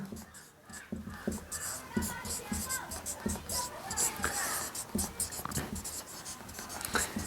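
Chalk or marker writing on a board during a maths lesson, with a steady series of short tapping strokes running throughout, close and fairly quiet.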